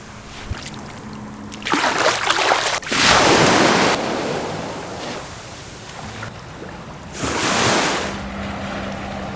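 Ocean surf at the sea in Puerto Vallarta, Mexico, with broad washes of breaking waves rising and falling in several surges, mixed with wind buffeting the microphone; no talking.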